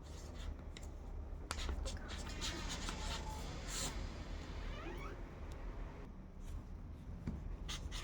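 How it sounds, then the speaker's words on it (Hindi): Pen writing names on small paper slips at a kitty party group game, a steady scratchy rubbing that runs nearly continuous at close range with a few sharper ticks and shuffles. "मैं देखिए इन मेंबर का नाम इसके पीछे लिख देती हूँ।"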